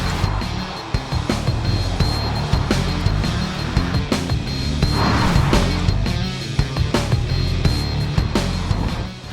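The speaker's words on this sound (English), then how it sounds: "I'll go round in the Ferrari." A Ferrari Roma sports car with 612 horsepower drives along, its engine a steady, continuous drone broken by small bumps and knocks throughout.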